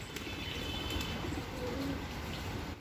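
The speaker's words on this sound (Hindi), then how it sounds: "बिल्कुल भूखे ही लग रहे हैं कबूतर।" Soft pigeon cooing over a steady murmur of birds, continuous and close, with low fluttering rumbles underneath.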